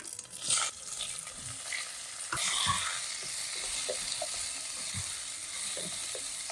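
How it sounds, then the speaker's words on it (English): Cumin seeds and chopped courgettes hit hot oil in a pan, giving a steady close sizzle and crackle, with a few brief stirring clatters and no voice. "add in a teaspoon of cumin seeds, and then straight away goes in the courgettes"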